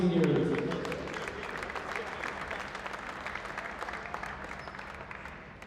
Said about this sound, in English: Ladies and gentlemen, let's give a roll round of applause for our Arlington seniors.